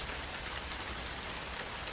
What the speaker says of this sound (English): And as the rain kept falling